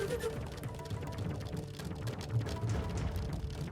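Steady, dense monsoon rain hisses and patters across the whole stretch near Porbandar, Gujarat, a continuous heavy downpour with no voices.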